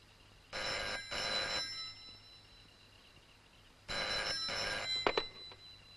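A telephone rings twice in a double-burst pattern, each ring loud and close and separated by a pause, with a faint click at the end.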